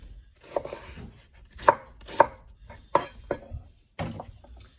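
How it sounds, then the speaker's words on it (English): A knife roughly chops vegetables, including onion, on a cutting board in irregular, sharp thuds, about eight strokes with short pauses between, close and clear. "Just roughly chop them because everything is going to go in the blender."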